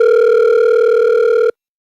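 A telephone line sounds a steady, loud electronic tone during a radio call-in program, holding evenly for about a second and a half before cutting off abruptly into silence.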